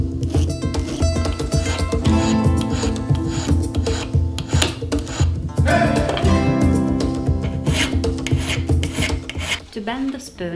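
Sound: filing an antique spoon ring with a metal file

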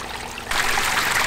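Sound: water flowing down a pump-driven pondless waterfall, test run

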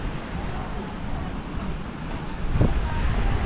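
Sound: hot wind blowing at the beach

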